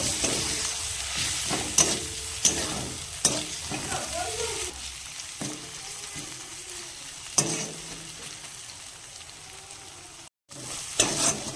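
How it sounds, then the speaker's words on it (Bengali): A spice paste of turmeric, chopped tomato and salt sizzles in a hot pan with a constant frying hiss, broken by scraping stirs of a spatula and a brief pause near the end. "মশলাটাকে ভেজে নিব"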